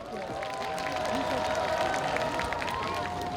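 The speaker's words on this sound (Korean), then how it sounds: "여러분 큰 박수 부탁드려요." A concert crowd at an outdoor festival show in Yeoncheon applauds and cheers steadily, a dense, continuous wash of clapping and crowd noise over faint music.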